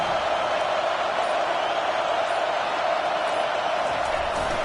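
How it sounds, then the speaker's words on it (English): A packed college football stadium crowd roars in the video game NCAA 25, a loud, dense, unbroken wall of noise sustained throughout while the defense takes the field. "Listen to this crowd just shaking the girders of this place trying to help their defense."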